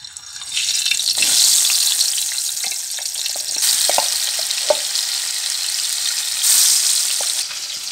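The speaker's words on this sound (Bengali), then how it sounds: "এখন কড়াই গরম হয়ে গেছে," Rui fish pieces, rubbed with salt and turmeric, fry in a hot kadai with a steady, loud sizzle and spatter that swells as pieces go in, with occasional soft clinks and stirring taps, and no talking.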